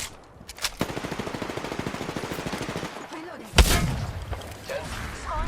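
Gunfire in a battle royale video game: a rapid burst of automatic shots rattles steadily for a couple of seconds, followed by a loud single blast and scattered game sounds.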